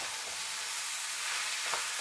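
Bottle gourd being stirred in a frying pan for a Bengali lau ghonto, a steady low sizzle with faint scraping, close and quiet, no voices.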